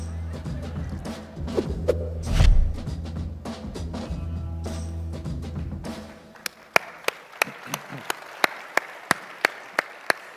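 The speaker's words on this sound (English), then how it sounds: "People always clap for the videos" An audience at a Detroit startup-city conference panel bursts into dense applause after a video, a full crowd clapping that thins to a few scattered, separate claps before fading.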